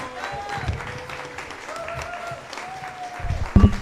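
Audience applause for a panel of women scientists at the close of a forest-science café event, moderate and steady clapping lasting a few seconds with background tonal sounds and a louder burst near the end.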